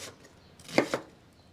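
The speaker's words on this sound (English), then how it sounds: "Just a rough chop." Knife roughly chopping vegetables for tomato soup on a cutting board, two quick close thuds heard alone over quiet room tone.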